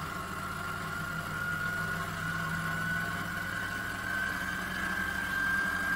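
A small DC motor spins up a flywheel, giving a steady low hum with a faint whine that slowly rises in pitch, close and quiet with no talk.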